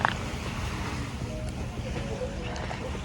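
Sea and wind at a seaside holiday spot with mountain peaks nearby, heard as a steady, dense roar of wind noise and surf with no breaks, loud and continuous throughout.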